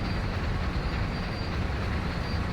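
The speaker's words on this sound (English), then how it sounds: "We've gone on the flat for a while, but the train's gathering up speed." A freight train rolls along flat track and gathers speed in Train Sim World 2, giving a loud, steady rumble with faint wheel and wagon noise and no break throughout.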